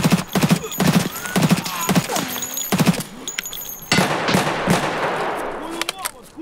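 Gunfire from the Escape from Tarkov video game cracks out as rapid single shots and short bursts, loud and close, with rattling echoes and a brief gap partway through.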